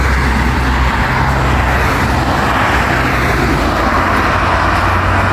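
Busy car traffic flows along a tidy city-centre road, a steady dense roar of passing vehicles with low engine rumble, loud and continuous throughout, with no voices.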